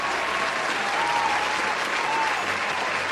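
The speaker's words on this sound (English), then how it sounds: "Give her a round of applause." Audience applause for a young woman being introduced, a dense, steady wash of clapping that holds at full strength from start to finish with no voices standing out above it.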